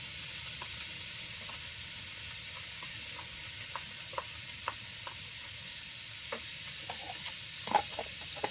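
Garlic sizzles in hot oil while frying with sardines, a steady close hiss dotted with small pops and light stirring clicks, continuous and moderately quiet, with no talking.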